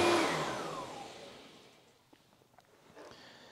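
Oreck Magnesium LW1500RS upright vacuum cleaner on its highest setting, a loud whine that falls away as the motor winds down, then faint handling knocks.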